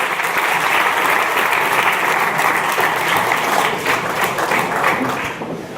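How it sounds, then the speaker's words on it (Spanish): Church congregation applauding in praise during a sermon, a loud, dense, sustained round of clapping from a large crowd that holds steady for several seconds before easing slightly at the end. "ponle un aplauso al Señor grande"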